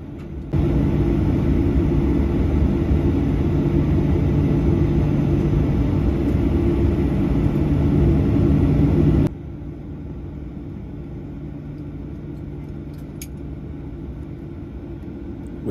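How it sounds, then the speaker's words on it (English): An American Airlines airliner taxis to the gate at Miami after landing, its engines roaring loud and steady inside the cabin before dropping suddenly to a lower, quieter whine that continues to the end. "We taxi into our gate and we were ready to deplane."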